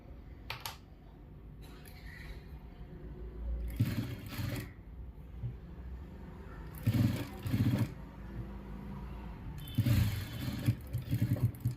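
A sewing machine stitches along ready-made piping in several short bursts with quiet pauses between them. The whirring runs are moderately loud and close, and there is no talking.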